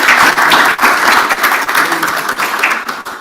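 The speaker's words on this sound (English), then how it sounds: "a round of applause for the moderator" A panel discussion audience at a conference gives the moderator a round of applause. The dense clapping is loud and steady for a few seconds, with no voices over it.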